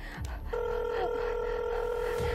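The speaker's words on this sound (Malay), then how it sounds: "Nak telefon, telefon siapa? Telefon bantu, kecemasan lah kan?" A telephone dials an emergency number after a roadside accident: a brief rustle, then steady electronic keypad tones that hold for about two seconds, fairly quiet, with no one talking over them.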